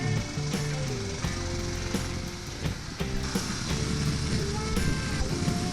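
A 2021 Harley-Davidson Pan America Special motorcycle ridden at speed, its engine droning steadily under loud wind rush, with a speaking voice faintly in the mix.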